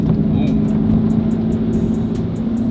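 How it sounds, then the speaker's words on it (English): A Corvette drives over train tracks in a snowstorm. A steady, close engine and road drone runs throughout with a faint, evenly spaced series of light ticks above it. "Up and over the train track we go."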